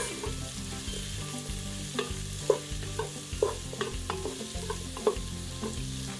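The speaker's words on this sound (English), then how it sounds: "add the mushrooms already, so we can start cooking with all those aromatics" Mushrooms frying with aromatics in a pan for vegan Filipino arroz caldo, giving a soft steady sizzle broken by several clear stirring knocks and scrapes. A low hum sits underneath, and no one speaks.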